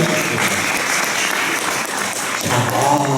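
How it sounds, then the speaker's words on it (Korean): Audience applause following a career talk on studying and working in Japan, steady and dense clapping from a crowd filling the whole stretch with a slight swell near the end. "큰 박수 부탁드리겠습니다."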